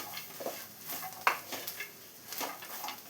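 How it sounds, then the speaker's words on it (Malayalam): Fried soy chunks with garlic, ginger, coconut pieces and curry leaves are stirred in a pan, giving a soft frying sizzle under a few close scraping strokes and light utensil knocks, with no voices. "ഇനി ഇതെല്ലാം കൂടെ ഒന്ന് മിക്സ് ചെയ്തെടുക്കാം."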